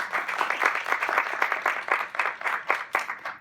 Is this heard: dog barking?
no